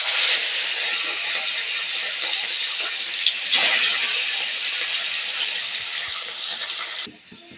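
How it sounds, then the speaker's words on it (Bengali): Rohu fish pieces frying in hot oil give a loud, steady sizzling hiss that holds almost unbroken, then cuts off sharply just before the end, with no talk. "মাছগুলো ভেজে নেব।"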